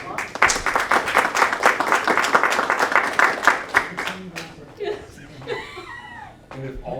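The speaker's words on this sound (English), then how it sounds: "This is a round of applause." Applause from the audience at a school board of education meeting, a burst of clapping lasting several seconds before fading into scattered claps and a few voices and chuckles.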